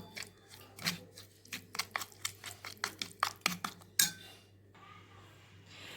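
Yogurt and salt stirred together in a bowl for a tandoori chicken marinade, heard as a run of close, sharp utensil clicks and scrapes against the bowl in an uneven rhythm, followed by a softer wet swish.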